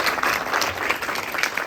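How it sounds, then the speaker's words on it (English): An awards ceremony audience applauds, a thick, even roar of many clapping hands filling the room at moderate loudness, with no voices standing out. "applause."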